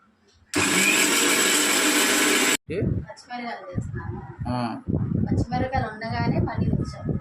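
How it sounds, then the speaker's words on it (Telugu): A mixer grinder whirs loudly for about two seconds, grinding coriander, cloves, poppy seeds, ginger and garlic, then stops abruptly as people begin talking nearby. "ఇది మిక్సీ పట్టుకుంటాను"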